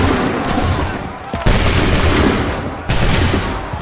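Musket volleys crack out in Assassin's Creed 3 battle gameplay: three loud broadband bursts at roughly one-and-a-half-second intervals, each trailing into a dense rolling roar.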